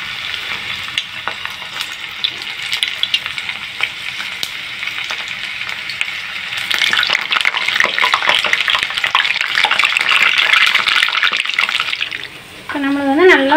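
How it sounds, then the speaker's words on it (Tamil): Ivy gourd (kovakkai) frying in oil in a pan, with a steady sizzling hiss that grows louder partway through and continues without a break. A voice comes in briefly near the end. "இப்போ நம்மளுக்கு வந்து நல்லா வந்து ஃப்ரை ஆயிடுச்சு."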